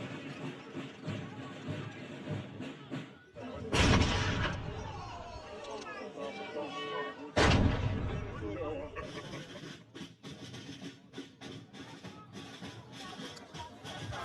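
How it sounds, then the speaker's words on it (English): Artillery salute fired from the ramparts of a Transylvanian citadel at the close of a changing of the guard ceremony: two loud, sharp booms several seconds apart that ring out over steady crowd chatter. "cavalry and artillery divisions march through the streets of the citadel, before gathering on the ramparts to finish with a bang"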